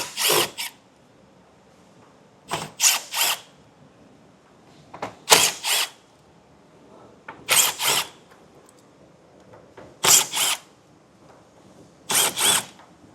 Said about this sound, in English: We have 6 T15 screws to remove.